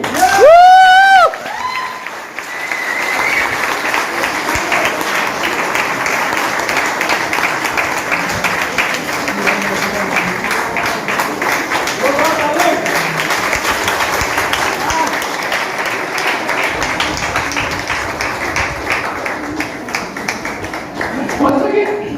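An audience at a DXN business motivational seminar in India claps loudly and steadily for about twenty seconds, a dense, sustained round of applause that begins right after a brief burst of amplified speech.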